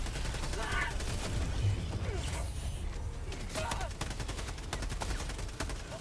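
Enemy gunfire in a video game battle: rapid, crackling automatic fire in long rattling bursts mixed with mechanical clanks, moderately loud and continuous, with brief voices underneath.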